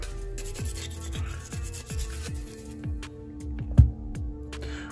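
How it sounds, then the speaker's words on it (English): Carbon being scrubbed off the bolt of a Sig Sauer P320 pistol, quick repeated rubbing strokes close by at a steady rhythm, ending in one louder knock. "Make sure to clean the face of your bolt."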